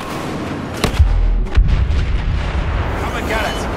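Blaster fire in Star Wars Battlefront (2015) on a battle station: a few sharp, heavy shots with booming low ends, then scattered fire in the background and a voice speaking among them.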